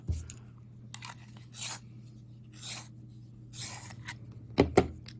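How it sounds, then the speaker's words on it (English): A colouring pencil is sharpened in short bursts. Several separate rasping, scraping strokes are heard close and fairly quiet over a low steady hum, with a couple of sharper clicks near the end. "Just give my pencil a little sharp in there."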